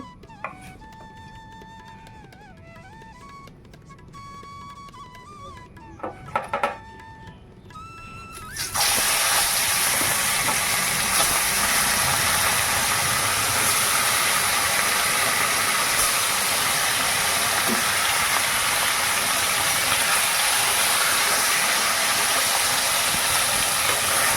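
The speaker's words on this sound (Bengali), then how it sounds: "চলো মাছটা এখন ভাজবো" Loud, steady sizzling of fish frying in hot oil starts abruptly after a few quiet seconds with faint clatter, then continues without a break.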